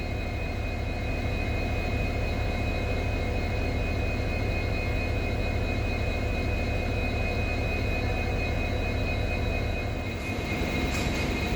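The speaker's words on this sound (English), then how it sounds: "So you can see our banker engines being attached at the rear end of the train." Banker locomotives are coupled at the rear of a Mangaluru–Bengaluru express, giving a loud, unbroken engine drone with a steady hum and a brief knock near the end.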